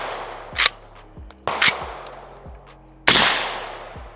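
Gunshots from a government contract M70AB2 AK rifle fired with the gas shut off and full power ammo, three loud sharp single reports spaced about a second apart, each with a decaying outdoor echo.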